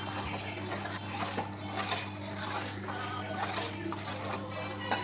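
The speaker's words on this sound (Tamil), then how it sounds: "இப்போ லாஸ்ட் எடுத்த பால் இதில் ஊற்றி மிக்ஸ் பண்ணுறோம்" Milk poured into kadala parippu payasam and stirred in a pot, with clinks of a spoon or ladle against metal and soft liquid sloshing over a low steady hum, close by.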